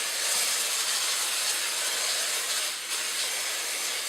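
Non-stick cooking spray hisses from a can into cake pans, a loud close continuous spray lasting about four seconds with a slight dip near the end.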